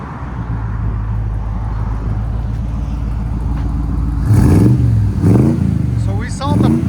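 1980 Chevy C10 pickup with a 350 V8, headers and Borla ProXS mufflers, idling with a deep steady burble, then blipped into several loud rising revs that fall back, with someone talking over the idle.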